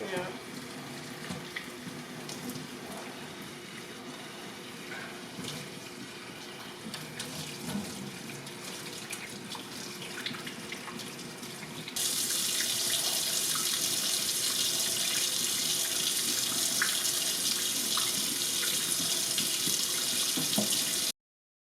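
Tap water runs steadily into a sink at a hair-washing station, a soft continuous hiss that grows louder and brighter about halfway through, with voices talking over it.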